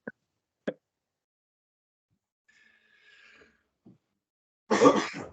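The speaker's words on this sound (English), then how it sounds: "having a coughing fit there as I was about to go and talk" A few short, sharp coughs and throat-clearing bursts, separated by quiet gaps, ending with a louder, harsher coughing burst close to the listener.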